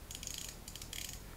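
A ratchet mechanism on a metal fidget coin gives quick, faint bursts of close clicking, two short runs within a second or so.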